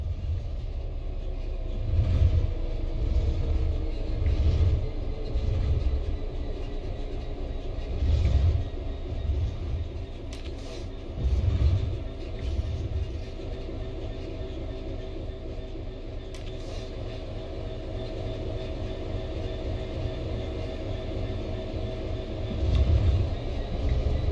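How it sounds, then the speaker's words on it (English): A steady low rumble of a Train Sim World 3 train coasting on level track, with faint rhythmic clunks from the wheels repeating every few seconds, no voices. "The train will then coast on level ground, and the train will only slow down very gradually."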